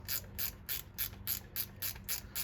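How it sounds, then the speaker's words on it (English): A small ratcheting wrench clicks in a steady, evenly spaced series of about ten crisp clicks, heard close up and alone. "Also got this handy dandy little ratcheting"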